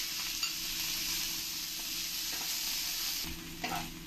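Chopped onion fries in hot oil with dried red chillies and a bay leaf, giving a steady, close sizzle throughout with faint stirring clinks.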